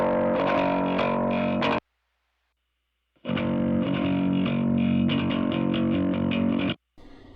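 Bass guitar run through distortion and a bass amp cab simulation, played as a gritty, fuzzy riff with sustained notes, cutting to silence for over a second before the distorted line resumes, then a brief final burst.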